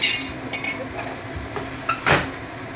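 A metal ladle lifting paneer in a hot metal pot while cooking a vegetarian paneer dish, giving a few sharp clinks and scrapes, one louder clank near the end, close by.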